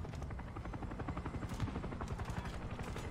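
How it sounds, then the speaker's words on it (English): Helicopter in the video game War Thunder, a rapid rhythmic rotor thump, fairly faint and distant, pulsing steadily throughout with a few faint sharp hits mixed in. "That helicopter scares me."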